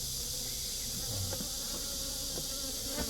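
Robber bees with dark tails buzz around a beehive in a steady, dense insect drone, close and continuous, with no voices.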